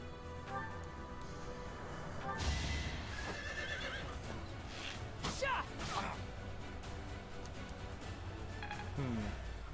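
Horses whinny and hooves clip-clop amid battle clashes and whooshes in the video game Fire Emblem: Three Houses, with a voice talking over the faint mix.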